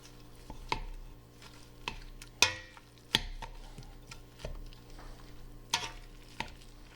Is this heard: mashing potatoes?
yes